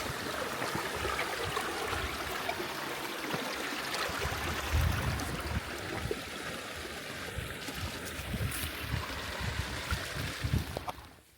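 A stream tumbles over big boulders and small waterfalls in a moorland clough, water rushing and splashing steadily nearby, a broad continuous hiss with small bursts, ending abruptly.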